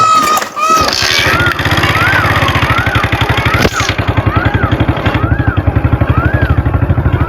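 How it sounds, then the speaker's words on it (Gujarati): A motorcycle engine kicks over and settles into a loud, rapid, chugging idle close by, its pulses steady throughout, with a voice speaking briefly. "મિત્રો ચાલુ કરે બાઇક."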